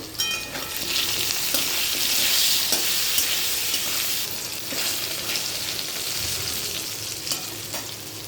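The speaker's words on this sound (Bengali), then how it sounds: "আলুটাকে একটু নুন হলুদ দিয়ে ভেজে নেব।" Potatoes frying in a pan with salt and turmeric, a loud, dense, continuous hiss of hot oil with occasional stirring clicks, close and bright throughout.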